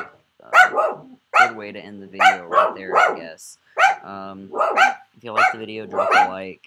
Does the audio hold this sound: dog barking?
yes